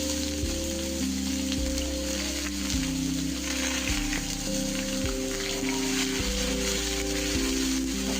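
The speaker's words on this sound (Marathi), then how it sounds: "नंतर सोप, जो बारीक कट केलेला चॉप केलेला कांदा होता तो टाकून घ्यायचा" Chopped onion and fennel seeds hit hot oil in a pan for Kashmiri dum aloo, giving a steady, dense sizzle throughout with background music underneath.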